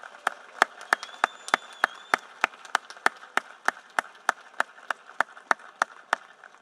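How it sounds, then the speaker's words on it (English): Steady, evenly spaced clapping rings out at a graduation ceremony for students, each sharp clap distinct and regular rather than a dense roar, with no voices over it. "Please give these students a round of applause."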